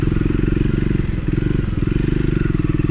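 A Triumph Scrambler 400 X motorcycle rumbles over bad, rough roads, its engine throbbing loudly and steadily with clattering bumps from the uneven surface, and a rider talks briefly over the noise.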